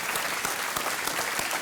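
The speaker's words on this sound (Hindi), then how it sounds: "तालियां बजती रहनी चाहिए" A KBC studio audience applauds steadily, dense even clapping from a crowd for a short burst.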